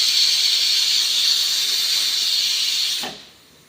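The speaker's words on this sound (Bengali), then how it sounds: "দেখুন আমার প্রেশার কুকারে সিটি হয়ে আছে" A pressure cooker boiling peas and potatoes blows a loud, steady steam whistle that holds for about three seconds, then cuts off abruptly, leaving a faint quiet tail.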